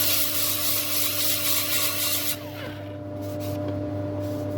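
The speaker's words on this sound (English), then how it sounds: "I'm just going to sand that so it's fresh wood" A turned wooden piece is sanded while it spins on a woodturning lathe: a steady, close hiss of abrasive runs over the lathe's hum, then eases off about halfway through, leaving the quieter whir of the machine.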